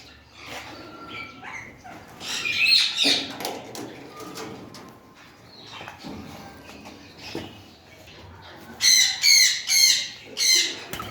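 Chestnut weavers, a rare bird kept in a farm aviary, calling in bursts of bright chattering notes, loudest in a cluster near the end and an earlier flurry, close to the listener amid other aviary noise.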